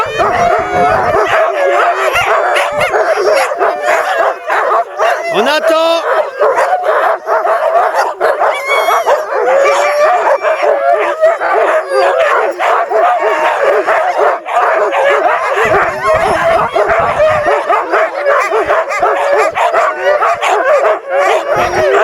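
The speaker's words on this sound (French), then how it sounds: "Ça dure un peu, du coup les chiens s'excitent." Sled dogs in Lapland bark, yip and howl excitedly while waiting to depart on a sled run, with a loud, continuous chorus of overlapping calls and a brief human voice among them.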